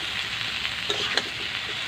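Plantain and potato frying with onion and garlic in a pan give a steady soft sizzle, with a couple of brief scraping stirs near the middle, no talking.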